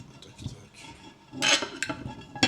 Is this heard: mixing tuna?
yes